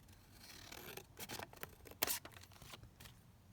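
Paper scraps trimmed with scissors at a craft table: a few soft, close snips and rustles, brief crisp cuts spread unevenly, faint overall with no talk.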